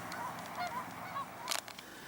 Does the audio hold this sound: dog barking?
no